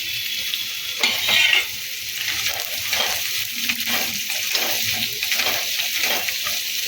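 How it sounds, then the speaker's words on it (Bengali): Green chillies and cashews fry together in a mix of oil and ghee while being stirred, producing a strong, continuous crackling sizzle with a louder burst early on. "সবগুলোকে একসাথে আমি তেলের মধ্যে দিয়ে দেবো তেল আর ঘিয়ে মিশ্রণের মধ্যে একটু নেড়ে চেড়ে মজিয়ে নেব"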